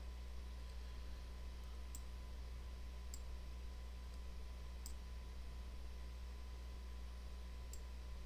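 A computer mouse clicks faintly while someone works in Adobe Illustrator. About four sharp, isolated ticks are spaced unevenly over a constant electrical hum and hiss, with no talking.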